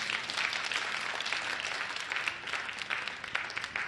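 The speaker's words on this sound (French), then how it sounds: "On applaudit Jésus ensemble." A congregation applauds together during a healing service: dense, continuous clapping from many hands fills the room at an even level, with a few sharper claps standing out and no talk over it.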